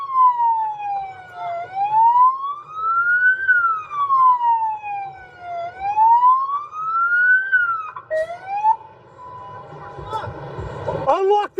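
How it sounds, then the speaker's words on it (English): A police car siren wails in a steady rising-and-falling yelp, loud and close, before changing pitch and cutting off near the end amid shouting. "Turn off my siren."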